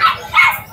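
An American Bully dog about one year and five months old barks nearby, giving two or three quick, sharp barks in under a second.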